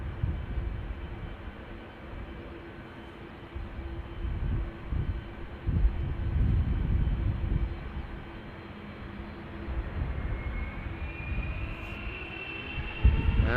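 A KLM Boeing 777-300ER spools up for departure at Amsterdam Schiphol, a steady, distant low roar of jet engines with a rising whine that builds toward the end, heard alone without talk.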